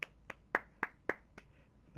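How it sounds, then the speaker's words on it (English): Hands clap sharply several times in an irregular rhythm, about seven close, crisp claps spread over two seconds in a quiet room with no talking. "That was me clapping."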